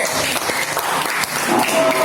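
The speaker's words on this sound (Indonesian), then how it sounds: "tepuk tangan buat kelompok B" Classroom applause for a student group during a Christian religious education lesson, a dense patter of clapping from many hands that stays steady throughout, with faint voices mixed underneath.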